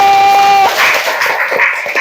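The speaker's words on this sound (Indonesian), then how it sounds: "tepuk tangan dulu" A brief burst of classroom applause at a teacher-training lesson, loud and close, following a short voiced sound and then continuing as dense, ragged clapping.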